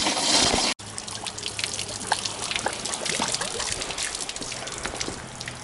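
Water trickles and gurgles steadily through the cooling system of a 1993 GMC Sonoma truck as it is being flushed, a close, continuous liquid sound after a short break near the start.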